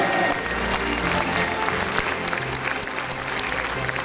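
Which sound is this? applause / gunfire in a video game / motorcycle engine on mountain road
applause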